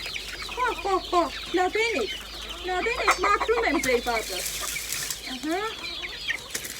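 Chickens and chicks in a hen coop that is being cleaned, clucking and cheeping in quick, repeated bursts close by, while a person talks over them throughout.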